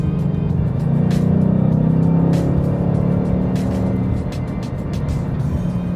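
A 2018 Ford Mustang cruising on the road, heard from inside the cabin as a steady, loud low engine drone with continuous road and tire noise throughout.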